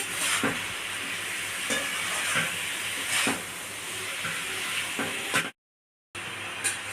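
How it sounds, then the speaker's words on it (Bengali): Mushrooms frying in a pan with a steady close sizzle, while a utensil stirs and scrapes through them in repeated strokes. The sound cuts off briefly near the end, then the sizzling resumes. "তো মাশরুমগুলোকে ভালো করে নাড়তে হবে।"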